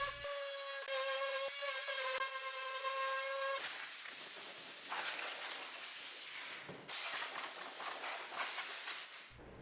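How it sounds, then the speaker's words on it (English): A power sander fitted with 120 grit sandpaper smooths the edges of a carbon fiber overlay on a 2015-2023 Mustang center console, making a steady, loud abrasive hiss. It starts with a tonal whine and shifts into broad grinding noise with brief pauses. "So I'll grab my power sander and 120 grit sandpaper and we'll smooth these edges right out"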